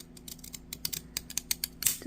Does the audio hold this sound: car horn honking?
no